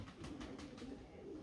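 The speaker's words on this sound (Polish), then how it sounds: "to jest wesoły gołąb" Soft, low pigeon cooing, a few rolling coos close by over faint background noise.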